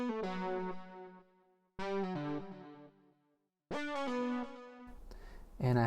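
A third synth lead layer from the Serum synthesizer in a remix plays three bright, harmonically rich phrases with distortion and chorus-like shimmer, each decaying before the next. A denser, noisier burst arrives at the end.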